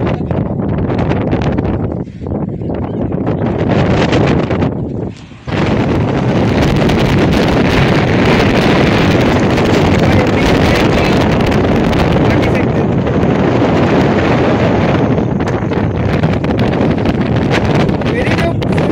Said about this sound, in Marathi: आता एक बोट येते बघा, मासे घेऊन येते वाटतं.